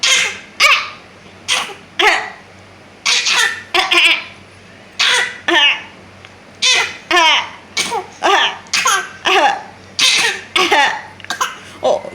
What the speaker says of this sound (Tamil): இருமல் வந்துடுச்சு.